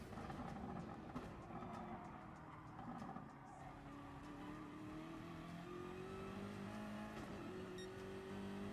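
A BMW race car in a racing video game runs at full revs, its engine note rising steadily as it accelerates and holds high pitch, loud and continuous with no talk.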